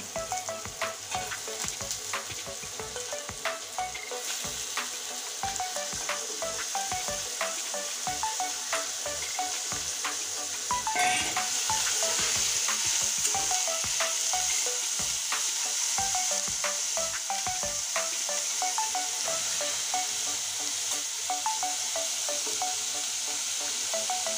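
Sliced bitter gourd (karela) with chopped onion frying in a pan, a steady soft sizzle broken by regular scraping stir strokes, fairly faint and close.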